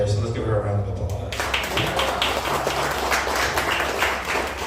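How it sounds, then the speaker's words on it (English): An audience at the J6 Truth & Light Festival applauds an organizer. After a brief lead-in, dense clapping breaks out and continues, with a voice talking over part of it. "let's give her a round of applause."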